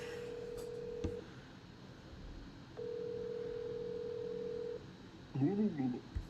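A telephone rings unanswered, giving two long steady tones separated by a pause, followed by a brief voice at the end.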